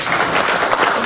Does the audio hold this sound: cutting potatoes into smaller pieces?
no